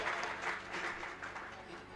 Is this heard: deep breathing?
no